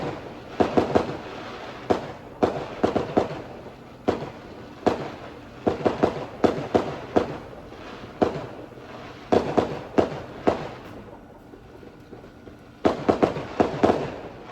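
Repeated fireworks bursts crackle and boom in clusters, some rapid volleys and some single pops, fairly loud and close with no talking.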